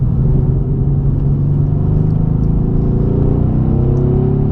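Mercedes C63 AMG S Coupe engine heard from inside the car while driving, a loud steady low rumble with a smooth rising drone as it pulls, continuous and close with no talking.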